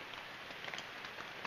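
Steady rain patters on a leaking tent during a backcountry hike in the Great Smoky Mountains, a dense continuous hiss with scattered louder drops close by, no voices.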